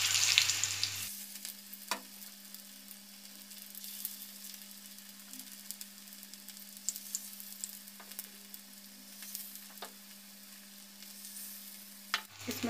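Daliya (broken wheat) cutlets sizzle steadily in hot oil on a tawa over a low flame, with a constant close crackling hiss and a few sharper pops, no voices.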